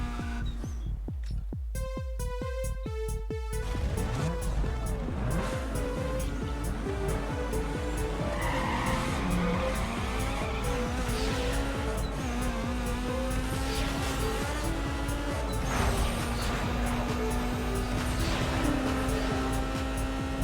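Race cars from the video game Need for Speed Underground 2 roar continuously at close range, their engines revving through rising gear changes with music underneath and occasional tire squeals.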